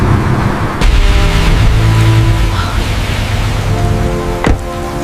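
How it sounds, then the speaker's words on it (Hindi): Heavy rain pours onto an empty road in a steady, loud broadband hiss with a couple of sharper knocks, and no voices are heard. "बारिश तेज है"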